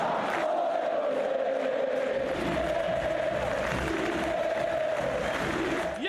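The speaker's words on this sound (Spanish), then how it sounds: "Escuchen la canción a Leo Messi." A packed football stadium crowd at Newell's, at Maxi Rodríguez's farewell match, sings a sustained chant for Leo Messi, with many voices holding a steady melodic line over a constant roar of cheering.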